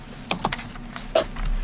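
Sparse keystrokes tap on a computer keyboard while a game master enters dice math during a tabletop role-playing session, a few close, irregular clicks with pauses between them and no talking.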